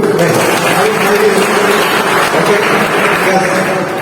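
Audience applause at a college youth induction games session, a steady dense clapping wash running the full length at close range, with voices mixed in underneath.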